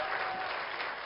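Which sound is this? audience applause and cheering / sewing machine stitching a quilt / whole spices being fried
audience applause and cheering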